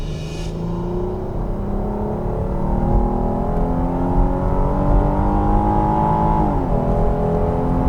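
Engine and exhaust of a Hyundai Genesis Coupe GT R with a stock exhaust, heard from inside the car as it accelerates hard, a steady loud rising drone with climbing engine tones, then a brief dip near the end.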